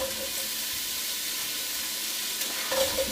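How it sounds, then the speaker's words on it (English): Salchichon salami sizzles steadily in a hot pot, a constant crackling hiss with a few brief stirring sounds near the end. "And you immediately hear the sizzle."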